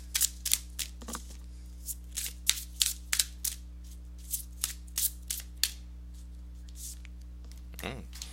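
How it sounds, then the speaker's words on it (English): Tarot cards being shuffled by hand, a run of crisp riffling bursts and taps in quick irregular rhythm, close and clear over a low hum, then a brief pause and a few final rustles. "let me go ahead and give these cards a shuffle"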